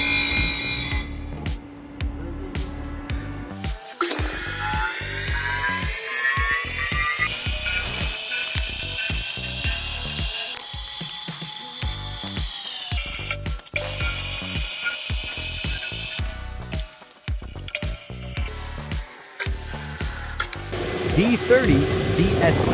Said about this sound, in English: The abrasive wheel meticulously refines the gear tooth profile, ensuring optimal surface finish.